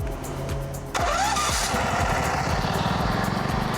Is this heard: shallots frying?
no